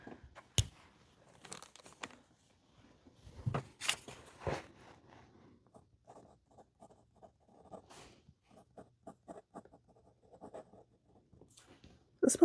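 Scratchy strokes of an extra fine fountain pen nib on paper, a run of quiet, close, irregular scribbles with short pauses between bursts.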